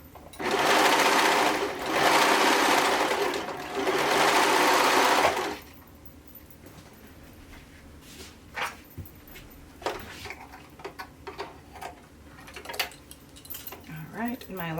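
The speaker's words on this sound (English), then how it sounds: "I'm stitching that elastic on." A sewing machine stitches elastic onto knit fabric in a loud, fast whirring burst that stops and restarts about three times over five seconds, followed by quieter clicks and handling noises under a speaking voice.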